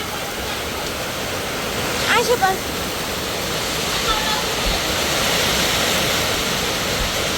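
Dense, steady rain hissing close around, with a brief spoken word from a person partway through.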